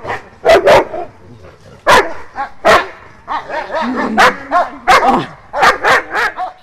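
Repeated sharp barks from a detection dog in irregular bursts, fairly close and loud, with some whining between them.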